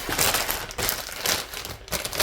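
A plastic bag crinkles and rustles in quick bursts as a new camshaft for a Fiero V6 six-cylinder engine is pulled out of it. The sound is close but faint and lasts only a couple of seconds.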